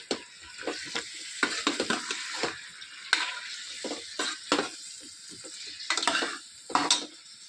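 Ground masala being stirred into drumstick sambar in a pan, a spoon scraping and knocking in irregular bursts over a soft sizzle, close and fairly quiet with no talking.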